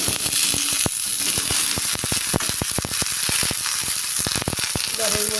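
Vegetables frying in a pan with no extra oil, a loud, dense sizzle running throughout, broken by many sharp clicks and taps from stirring, with a faint melody under it.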